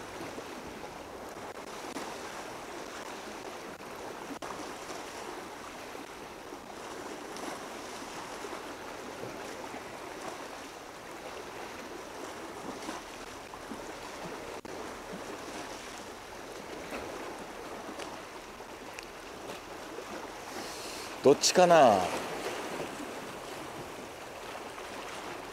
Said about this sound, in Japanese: 船が通って寄せ波がバサバサ来てる